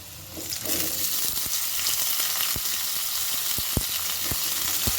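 Diced potato and kohlrabi fry in a pan with a steady, close sizzle. Scattered knocks come from stirring throughout.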